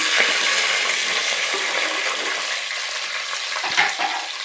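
Steady, close sizzling of onions frying in a hot pan with spices for meal maker biryani, a continuous bright crackle with a faint scrape of stirring near the end.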